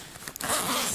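A zipper on the hidden laptop compartment of an Ebags Mother Load TLS Weekender Convertible bag is pulled in one quick, close rasping run lasting under a second.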